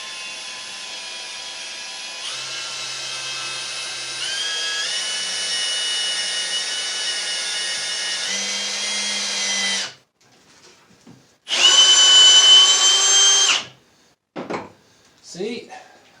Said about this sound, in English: now I'm just going to put a screw in with my drill